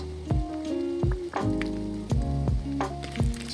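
Raisins frying in hot ghee with bay leaf, cardamom and cinnamon, giving a close, steady sizzle broken by a few sharp clinks and stirring knocks, with no talk.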